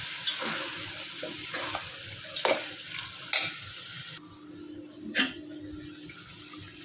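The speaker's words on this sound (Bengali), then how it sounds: "মশলার সাথে মাংসটা মিশিয়ে দিছি" Meat is stirred with spices in a pan over a soft, steady sizzle, with intermittent scraping stirs and clinks of the utensil against the pan, close by.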